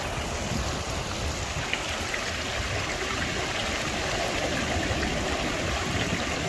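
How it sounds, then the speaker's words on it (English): Spring water and surface runoff stream steadily into the sea at Bathsheba beach, Barbados: a continuous close rushing wash of water, even and unbroken, with no voices. "This is just spring water and surface water that's constantly running into the sea."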